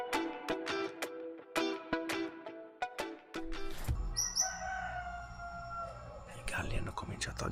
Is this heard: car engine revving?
no